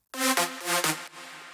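A bright, buzzy Nexus synthesizer lead preset plays three short sustained notes in a rising and falling phrase, heard alone and up close.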